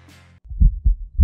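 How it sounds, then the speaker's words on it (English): A heartbeat sound effect from a football card pack opening in a video game: three deep, loud thumps in a steady rhythm follow a brief low hum. "Oh my God, that timing of the heartbeat."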